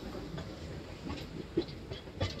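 A passenger train travels the Tenali–Guntur stretch on its run from Vijayawada, with a low rolling rumble and a few distinct wheel clacks and thumps toward the end. No one speaks.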